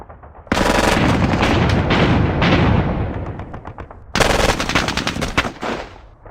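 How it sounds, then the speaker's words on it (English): Bursts of small arms and automatic gunfire in the WDS Squad Battles Eagles Strike war game, loud and dense, a long rattling volley followed by a second sharp burst after a brief lull, with no talking. "we're gonna try and take out the bunkers with just small arms fire"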